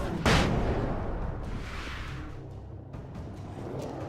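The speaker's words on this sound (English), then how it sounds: "Flashbang." A flashbang detonates in the Alan Wake video game, a sharp broadband burst followed by a lingering hiss and rumble that fades gradually over several seconds.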